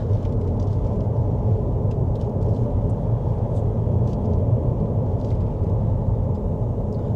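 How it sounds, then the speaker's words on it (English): Steady low road rumble inside a Leapmotor C10 electric SUV driving over rough chip-seal road, a constant dense drone with faint ticks of tyre texture and no voices. "driving on this rough seal, you are going to get the vehicle shakes, and due to the long wheelbase, you are going to get a little bit more noise at the back"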